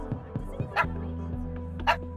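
A dog in the Minecraft: Story Mode video game gives a few short yips and a whimpering bark, spaced apart over a steady hum of game music.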